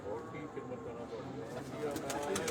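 White gold pigeons cooing on a rooftop loft in Gujrat, soft repeated coos under steady background noise and talk.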